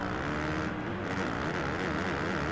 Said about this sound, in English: I feel like the Kawasaki has just got such a satisfying sound in this game too